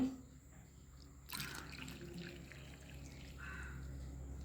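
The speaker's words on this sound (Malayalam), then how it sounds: "ഗോതമ്പ് പൊടി 1 ഗ്ലാസ് വെള്ളം ഒഴിച്ചിട്ട്" Water is poured onto wheat flour in a kitchen: a faint, soft splash and trickle that starts suddenly and then runs on quietly for a few seconds.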